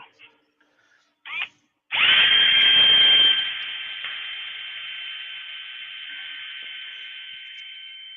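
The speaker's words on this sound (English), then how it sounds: "Did you find that drill in my workshop, Terry?" A Ryobi power drill whirs up sharply after two brief bursts, then runs steadily at a high-pitched whine that eases slightly after a loud first second, staying close and continuous to the end in a woodturning workshop.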